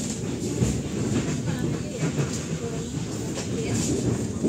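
Aboard the KA Argo Parahyangan train from Jakarta as it pulls into Bandung station, a steady low rumble of the moving carriage carries faint rhythmic clatter underneath.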